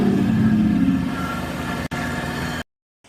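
Engine of a Kawasaki Mule FXT Pro utility vehicle running steadily during a ride, a loud close drone that eases slightly after the first second, cuts out briefly near the two-second mark, then returns before dropping to silence.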